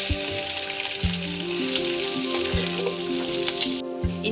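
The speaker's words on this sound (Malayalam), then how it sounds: "വെളിച്ചെണ്ണ ചൂടായി വരുന്ന സമയത്ത് ഇഞ്ചി ചേർത്തിട്ട് ഒന്ന് വറുത്ത്" Ginger sizzles in hot coconut oil over a low flame, a steady crackling fry heard close up over a soft, rhythmic musical backing, with no talk.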